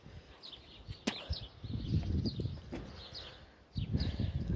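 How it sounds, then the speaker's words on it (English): Birds chirp in short, scattered calls outdoors, set against a low rumbling background with a few sharp snaps. "Shut up, birds, I'm talking."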